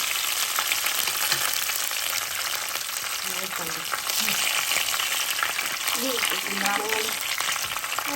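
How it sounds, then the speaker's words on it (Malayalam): Raisins frying in coconut oil for a prawn biryani, a constant close sizzle with some stirring, and faint voices murmur in the background partway through. "നല്ല സ്വന്തം മുന്തിരി ഒന്ന് പൊരിച്ചെടുക്കട്ടോ"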